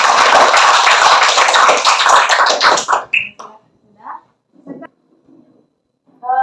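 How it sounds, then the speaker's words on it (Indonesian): Students in a classroom applaud a classmate's correct answer with a brief burst of dense clapping that ends abruptly, leaving a quiet room with scattered short sounds. "Silakan tepuk tangan untuk itu."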